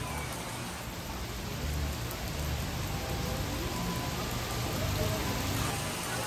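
Heavy rain pours steadily at Animal Kingdom theme park, a dense, continuous hiss of drops hitting surfaces with a low rumble underneath, holding even in loudness throughout with no voices.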